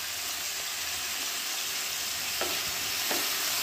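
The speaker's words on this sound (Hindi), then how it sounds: "मैंने 2 आलू को छोटे छोटे पीस में काट के रखा था, इसको पहले फ्राई करूँगी" Small pieces of potato fry in hot oil with salt and turmeric, a steady dense sizzle running throughout with two brief stirring scrapes near the end, no voices.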